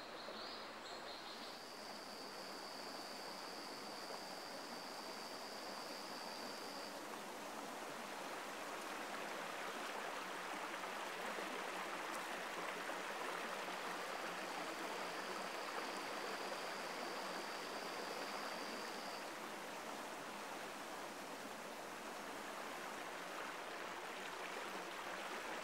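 A forest stream flows steadily along its banks, a continuous broadband rush of water close by with no pauses, and a faint high tone sounding briefly at times over the flow.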